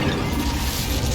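The Incendio fire spell in the video game Hogwarts Legacy: a short, loud, dense burst of roaring, crackling noise lasting just over a second, full and even throughout.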